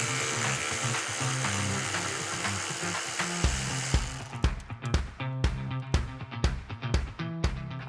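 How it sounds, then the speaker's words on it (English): A power tool backs out the top headlight screw on a 2017-2019 Ford Super Duty truck. A steady whir gives way to a run of sharp, close ratcheting bursts. "there's 1 more screw on the very top of your headlight that you have to take out"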